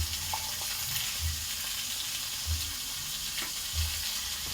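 Chili, pepper, ginger, turmeric and salt sauté in a hot pan for an angti fish curry, a steady sizzle with soft, regular scraping thumps from stirring.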